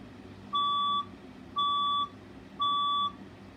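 Three identical electronic fire alarm test tones sound alone, each a clear, bright, sustained beep of about half a second, evenly spaced at one-second intervals and loud and close.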